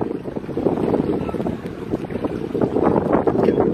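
Steady outdoor wind gusting and buffeting the microphone, a loud continuous rushing roar with swells toward the end, no talk heard.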